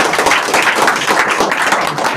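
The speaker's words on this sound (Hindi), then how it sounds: "जोरदार ताली से स्वागत किया जाए।" Enthusiastic applause from an audience at a coaching-class farewell programme, welcoming a student forward; dense, steady clapping fills the whole moment with no voices over it.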